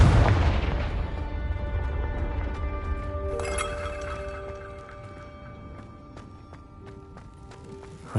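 Confringo fire spell cast in a Hogwarts video game: a sharp blast that fades into a long ringing decay, followed by a few scattered distant thuds.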